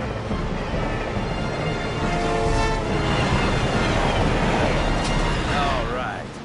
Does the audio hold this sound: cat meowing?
no